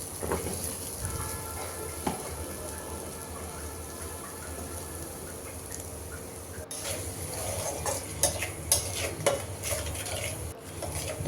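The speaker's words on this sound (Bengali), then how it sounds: "ভাজিটা আমি নেড়ে চেড়ে করে নিচ্ছি, ভাজা ভাজা করে" Vegetable bhaji is stirred and fried in a pan, with soft scraping and clinking of a utensil against metal over a low background hum, fairly quiet and close, with scattered sharper knocks toward the end.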